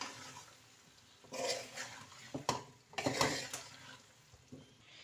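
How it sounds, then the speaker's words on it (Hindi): Metal spoon scraping and clattering in a pan as fried cauliflower is stirred into mixed vegetables for aloo gobi, a few bursts of clinks and scrapes close by with no talking. "अब जो हम इसमें डाल देंगे गोभी फ्राई की हुई। अब हम इसको मिक्स करेंगे।"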